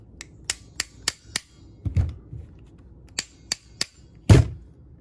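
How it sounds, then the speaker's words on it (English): A hammer strikes a transponder key part to punch it into place, giving a series of sharp, close taps in irregular bursts, with a couple of heavier thuds among them. "sometimes you can take a hammer, just punch it in"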